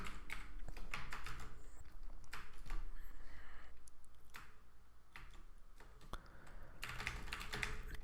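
Fingers typing Python code on a computer keyboard, a quiet steady stream of light key clicks in short bursts with brief pauses, close and alone without talk.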